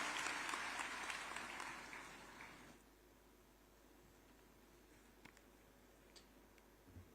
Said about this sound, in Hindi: जोरदार तालियों से माननीय का स्वागत करें